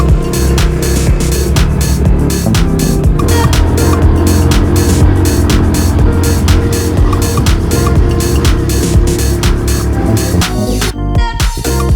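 Cars and motorbikes rumble steadily along a busy dirt road in South East Asia, with loud, continuous engine and tyre noise and passing vehicles throughout.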